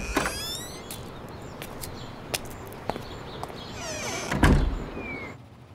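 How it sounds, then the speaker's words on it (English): A door slides or swings open with a creak and a thud near the end, amid faint background noise and scattered clicks, no talking. "Please open the door."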